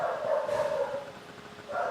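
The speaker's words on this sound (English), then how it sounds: "excuse my dog please" Dog barking indoors, a few muffled yips and barks at moderate distance over a low background hum, with no one talking during it.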